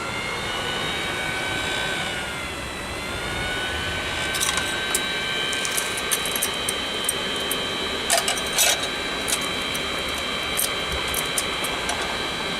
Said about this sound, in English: Put the blower on.